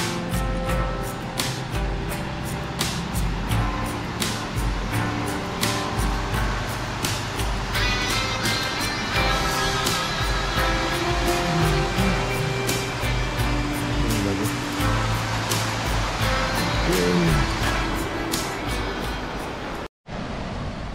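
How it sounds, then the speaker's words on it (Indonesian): River water at Leuwi Kunten in Sentul, Bogor, rushes in a continuous broadband wash at close range, steady and full throughout with small splashy ticks, cutting off abruptly right at the end. "Suasananya sungai ya."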